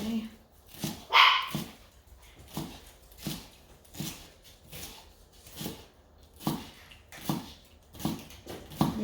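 A small Chipu puppy barks and whimpers in a home kitchen, giving steady, repeated short yips and whines at a moderate distance over a faint background hum.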